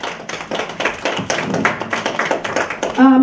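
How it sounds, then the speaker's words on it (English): A conference audience at a migrant women's summit claps in a hotel hall, a loud, brisk patter of many hands that runs steadily for about three seconds before a short tonal sound cuts in at the end. "Let's give her a round of applause again"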